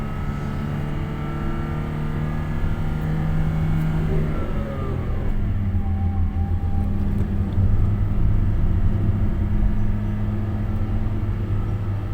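A nearby motorbike engine revs, its droning hum sliding up and down in pitch over a steady rumble, without any speech.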